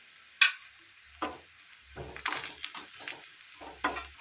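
Ground spices for a peanut curry stirred and fried in a pan, with a clink at the start followed by several scraping stir strokes in an uneven rhythm over a soft background sizzle, close and moderately loud.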